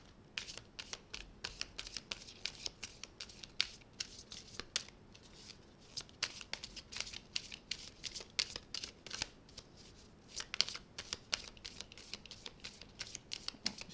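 A tarot deck is shuffled continuously for about fourteen seconds, with crisp, rapid card slaps and riffles in uneven bursts, close and fairly quiet, and no talking.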